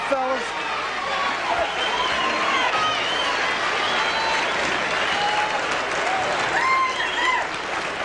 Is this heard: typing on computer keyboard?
no